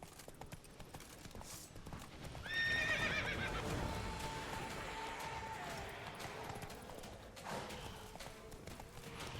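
Roach, a horse in The Witcher 3 video game, clip-clopping along with hooves under a loud, ringing whinny partway through, then steady trotting continuing to the end without voices.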